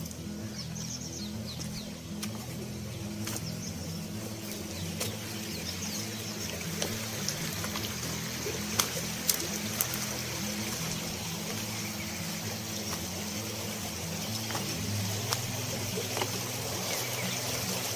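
A river in Uttarakhand flows steadily, a faint, constant wash of water with a few sharp clicks and a bird calling now and then.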